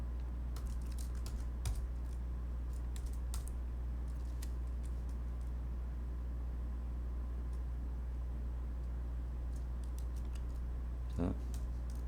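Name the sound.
typing on a computer keyboard in vi practice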